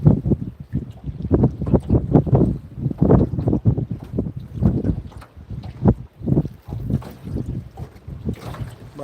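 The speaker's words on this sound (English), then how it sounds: "wind is just blowing super fast" Strong wind gusting on a lake during a fishing trip, buffeting the microphone in loud, uneven blasts with a low rumble throughout and the lap of water underneath, no voices.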